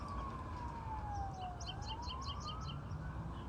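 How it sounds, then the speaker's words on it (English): Emergency sirens wail in the distance on a ranch, a faint rising and falling tone over steady outdoor background noise, with birds chirping in rapid bursts nearby. "we've got some sirens going off in the distance."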